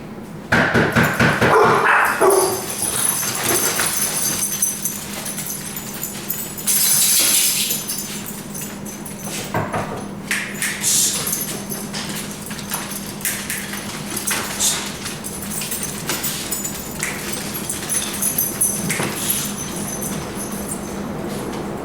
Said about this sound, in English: I'm gonna go and knock and see if that'll attract them